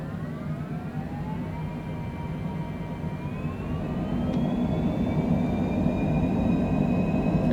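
A Cessna Citation Longitude business jet makes its takeoff roll, engines spooling up with whining tones that climb steadily in pitch over a broad, growing rumble, with no talk.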